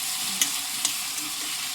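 Onions fry in hot oil with a steady close sizzle, and a few light scrapes from the stirring spoon come through at intervals.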